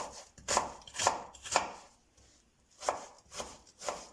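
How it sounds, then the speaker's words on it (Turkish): A knife dices a dry onion into cubes on a board: three quick cuts, a pause, then three more crisp chops, close and clear. "Onu küp küp doğruyoruz."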